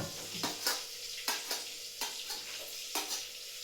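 Boiled vadis sautéing in a pan, a soft continuous sizzle punctuated by several sharp scraping stirs at irregular intervals, close and fairly quiet.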